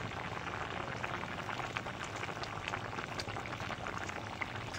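Fried shol fish goes into a simmering curry with potatoes, giving a faint, continuous bubbling and soft sizzling hiss in a quiet kitchen, steady throughout without speech.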